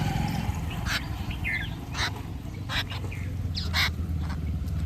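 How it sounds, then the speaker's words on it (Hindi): A flock of birds gathered close by, fed by pilgrims on the Narmada parikrama route near Barwah, gives scattered chirps and squawks over a constant low outdoor rumble and murmur. "देख सकते हो कितनी सारी चिड़ियाँ हमारे पास में ही हैं"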